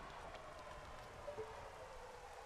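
Rain falls in The Legend of Zelda: Ocarina of Time as a steady, soft hiss of drops that carries on evenly throughout with no voices.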